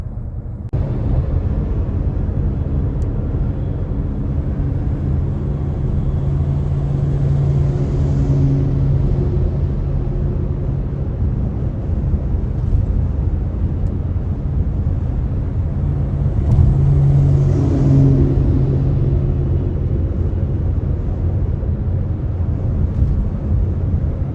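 Steady traffic on Interstate 81 northbound near Watertown toward Syracuse, heard from inside a moving vehicle as a continuous low road rumble, with passing trucks swelling briefly twice.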